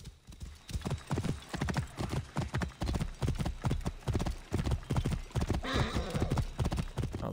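Horse hooves in Assassin's Creed Origins, a steady rapid galloping clip-clop throughout, loud and close, with a brief breathy whinny-like snort partway through.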